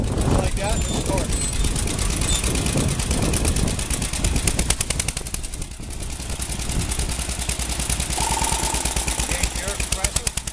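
A homemade garden tractor engine starts and runs, a loud, steady rapid chugging that fills the clip, close up, with a person talking over it.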